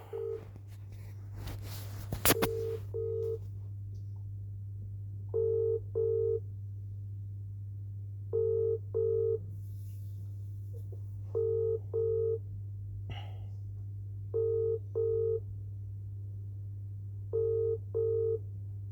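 A telephone ringback tone repeats in paired pulses over a steady low hum, about every three seconds, while a call waits to connect before reaching voicemail; no one speaks.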